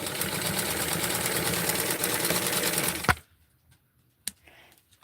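A sewing machine stitching a T-shirt runs in a fast continuous whir for about three seconds, then stops abruptly, followed by near silence and a single sharp click.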